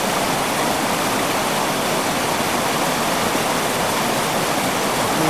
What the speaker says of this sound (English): I wanna hear the sound of the waterfalls.